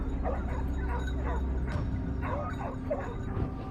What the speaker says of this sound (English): a ferocious chorus of barks erupted, pulling every eye to the sound